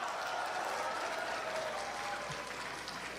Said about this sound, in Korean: 큰 박수로 샤우팅 코리아 유세단을 모시겠습니다